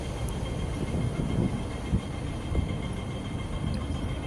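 Hong Kong MTR train riding from Tung Chung toward Central, a steady low rumble of the carriage in motion with a faint constant hum and occasional soft bumps, no talk.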